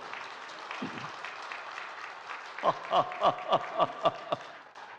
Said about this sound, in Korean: 박수 한번 칩시다 우리